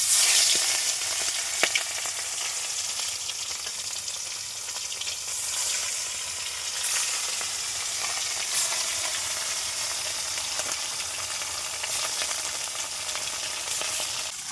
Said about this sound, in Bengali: তেলটাকে ভালোভাবে গরম করে নিয়েছি। এবার মাছগুলোকে দিয়ে দেবো।